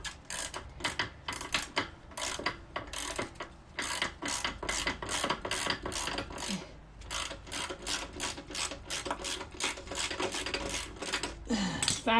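Ratchet wrench clicking steadily in quick bursts while backing a bolt off a saddlebag guard on a 2018 Harley-Davidson Sport Glide FLSB, close and continuous with brief pauses and no talk.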